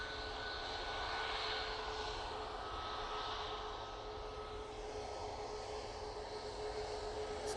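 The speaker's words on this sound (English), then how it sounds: "A380 is going right over the top of us" An Airbus A380 flying overhead at Manchester Airport, a steady, moderately loud jet roar with a faint tonal whine, sustained without pause and no talk.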